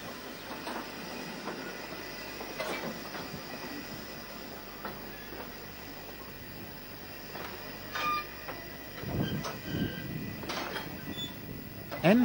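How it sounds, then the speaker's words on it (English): Steam locomotive number 80143 hauls a northbound train on the Cuckoo Line branch in 1965, producing a steady rumble of rolling stock with intermittent clanks and squeals, heard from a moderate distance. "number 80143 was again the engine on duty with this northbound train"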